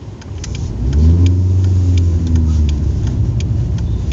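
A VW Bora car drives and accelerates, its engine rising into a steady, loud mid-pitched drone with a clear revving climb and faint ticking over the top, no talk.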